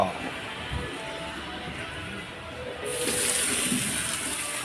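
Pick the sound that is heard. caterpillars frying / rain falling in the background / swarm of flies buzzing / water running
water running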